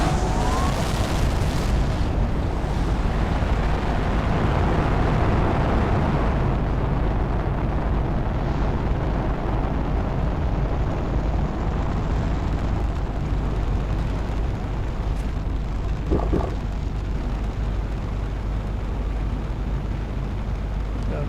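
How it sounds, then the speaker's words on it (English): Planet Crafter rocket launches in the video game, a loud, steady, continuous rumbling roar with no breaks, with a few faint higher tones rising above it. "And that is 50 rockets in a row to space."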